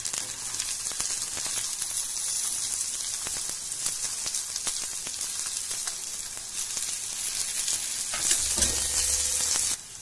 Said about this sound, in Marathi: कांदा घालायचा.